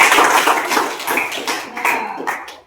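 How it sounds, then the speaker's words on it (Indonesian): Students clap for a classmate during a physical education lesson, a brief burst of dense applause that fades out over a few seconds. "beri tepuk tangan kepada teman"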